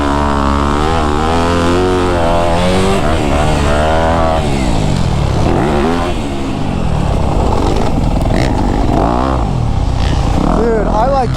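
A dirt bike revs and accelerates loud and close on a sandy backyard motocross track, its pitch rising and falling through gear changes as the rider works the throttle, with speech underneath.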